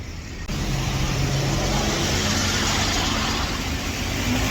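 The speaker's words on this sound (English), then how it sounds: "The bus always gets in the way when I do a video." A bus rumbles past on a Manchester city street, its engine noise loud and broad, rising in after a brief quieter start and staying heavy and close for the rest of the moment.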